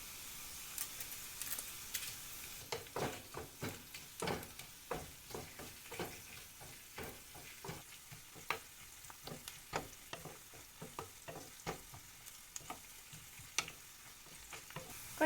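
Finely chopped green chillies and onion sizzle steadily in a pan for a Kerala-style fish curry, with irregular scraping stir strokes cutting through the constant frying hiss, close up and with no talking.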